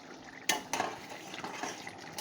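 A spoon clatters and scrapes in a pan as slit green and ripe chili peppers are stirred into a ridge gourd and potato curry with poppy seed and coconut, several distinct knocks over a soft sizzle, close and fairly quiet.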